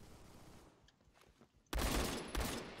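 An RPK light machine gun in the Roblox shooter Phantom Forces sounds after a quiet stretch with faint distant shots, then opens up suddenly in a loud, sustained close burst of fire.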